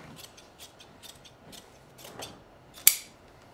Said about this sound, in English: I'm just going to do a little bit more trimming on the webbing before I fold it